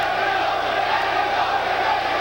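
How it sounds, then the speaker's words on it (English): Steady roar of a large boxing arena crowd cheering and shouting during a professional bout, a dense, sustained wall of voices filling the space without pause. "Pretty good crowd for both fighters"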